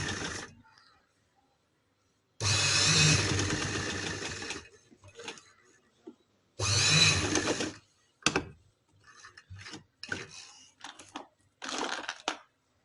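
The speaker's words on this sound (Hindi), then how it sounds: "इधर हम सिलाई लगा लेंगे ताकि ये कपड़ा हिले ना" A sewing machine stitching fabric for a neckline design, with two sustained loud bursts of rapid mechanical whirring and a few shorter runs and clicks between quiet pauses, heard close up.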